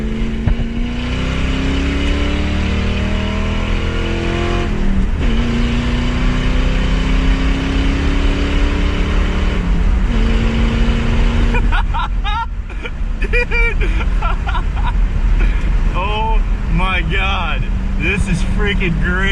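A car engine running loud with its muffler deleted drones steadily, rising and falling in pitch as it revs through gears, with people talking over it in the second half.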